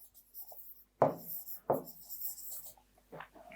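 Pen strokes scratch on paper in three or four short bursts, close and clear, with quiet gaps between them and no speech.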